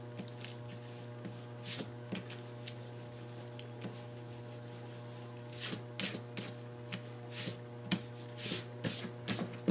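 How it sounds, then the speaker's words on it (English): A pencil eraser rubs lines off paper in short, quiet, irregular bursts of scrubbing, with a faint steady hum underneath. "Grab an eraser and erase all your lines."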